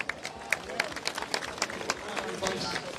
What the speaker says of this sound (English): Give a round of applause for Aaron Johnson.